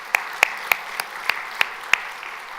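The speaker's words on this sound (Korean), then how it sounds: "우리 박수 한번 쳐드리죠" Sparse claps ring out in a church service, about seven sharp hand claps spaced unevenly over a soft hissy room background, like a small scattered applause.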